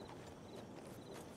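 Horse hooves clop at a walking pace in a Western roleplay video game, a quick run of soft, even footfalls heard up close.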